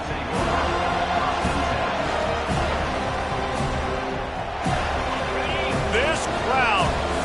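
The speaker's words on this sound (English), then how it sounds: "This crowd, full throat, spreading the eardrums and letting them know it's going to be a long day" A loud stadium crowd roars at a football game, a dense, sustained wall of cheering and yelling with a commentator's voice running over it.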